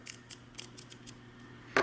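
A series of small, crisp clicks comes from the aperture control ring of a Focal MC Auto 28mm f2.8 Minolta SR mount lens as it is turned back and forth during disassembly, ending in a louder snap.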